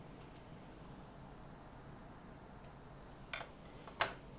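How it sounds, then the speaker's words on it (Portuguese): Scissors snip crochet yarn at the end of a row on a poppy sousplat in a few quiet, sharp clicks, isolated and sparse against a faint, hushed room. "Agora a gente vai cortar o fio."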